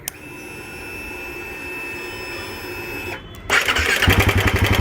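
A Royal Enfield Himalayan 450 motorcycle with a knocking engine fault is started: a steady starter whine runs for about three seconds, breaks off, then the engine catches into a loud, rapid, pulsing idle.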